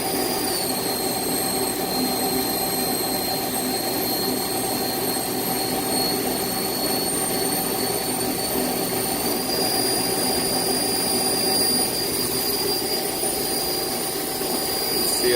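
A 2017 Mazak QTU350MY CNC lathe spindle runs with a steady, loud machine whine and high tonal hum, its pitch stepping slightly partway through, with no talk over it.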